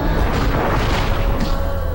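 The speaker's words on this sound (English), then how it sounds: "Hit the TNT and get off the platform, because they're going to shake up quite a bit during the explosions" TNT crates exploding in the Crash Twinsanity video game, a dense, continuous rumbling boom with low-end roar filling the whole stretch, loud and close with no clear separate blasts.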